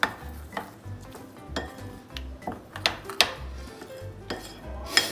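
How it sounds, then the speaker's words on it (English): A spoon stirs dried rose petals through a pot of hot chocolate, giving a run of light scrapes and clinks against the pot at an irregular rhythm, close and moderately loud with no talking. "I will add those petals inside. Give it a quick mix."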